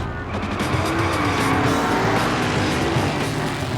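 A nitro funny car hot rod at a drag race roars loudly and steadily throughout, a dense, sustained engine blare with tire noise, heard alone without speech.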